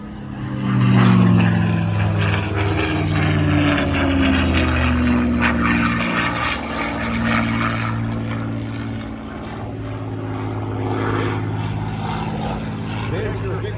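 A P-51 Mustang propeller fighter performing a victory roll at an airshow at Willow Run Airport, its engine drone steady and fairly loud throughout, rising and falling slightly in pitch, with a voice talking over it.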